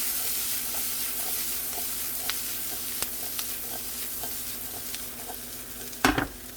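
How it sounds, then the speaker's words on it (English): Golden-brown onions fry in a pan and are stirred back together, with a soft continuous sizzle, light scraping, and one sharper clatter near the end. "let's start moving everything back in together so that our onions don't burn."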